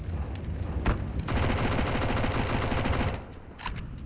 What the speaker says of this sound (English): Blame unloading his mag to try and feign presence